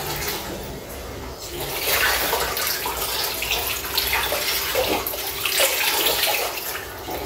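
Snake bitter gourd is washed by hand under a running tap, with steady close splashing and rushing water and shifting spatter as it is handled.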